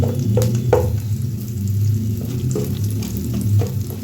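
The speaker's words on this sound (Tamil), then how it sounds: "அதை மட்டும் வறுத்துக்கோங்க தனியாக அது கொஞ்சம் நல்லா பொன்னிறமாக வந்தால் தான் சாப்பிட்றதுக்கு நல்லாயிருக்கும்" Lentils fry on their own in a pan, giving a steady close sizzle with occasional soft stirring scrapes and no voices.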